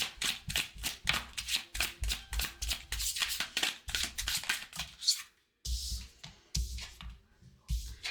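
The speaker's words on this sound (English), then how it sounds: "I don't know why I feel like shuffling" Tarot cards shuffled by hand at close range, a rapid run of soft riffling bursts in an irregular rhythm with a short pause near the end, no talking.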